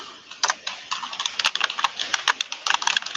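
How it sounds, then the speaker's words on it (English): Loud, rapid clacking of a computer keyboard picked up on an open microphone during an online Kubernetes meeting, irregular bursts of keystrokes continuing throughout with no talk. "I think you're typing very loudly right now"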